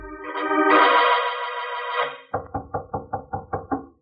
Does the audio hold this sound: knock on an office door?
yes